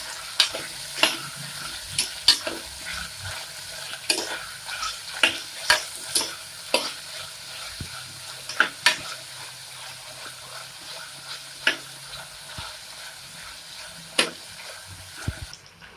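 Onions sautéing with ginger garlic paste for ghee rice, a soft steady sizzle marked by repeated crisp clicks and taps of a spoon stirring against the pan.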